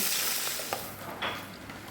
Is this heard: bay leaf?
yes